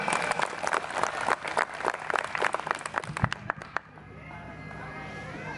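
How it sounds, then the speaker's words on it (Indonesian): Crowd applause at a company health talk event, dense clapping for several seconds that thins to scattered claps and fades into quieter room tone with faint voices. "Tepuk tangan untuk kita."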